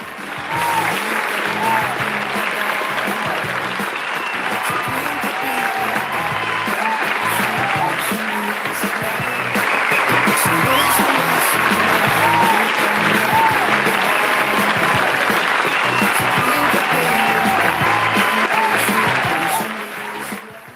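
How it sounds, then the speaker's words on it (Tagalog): Sustained applause mixed with crowd cheering, a dense, even wash of clapping that holds for about twenty seconds before dropping away at the end. "Applause crowd cheering."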